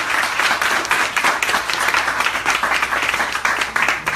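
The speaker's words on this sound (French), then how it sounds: "On peut encore l'applaudir une fois, là." Audience applauding a song just performed at a hypnosis show at a lodge in Porto-Vecchio, Corsica: steady, dense clapping from a sizeable crowd, loud and close, continuing evenly without talk.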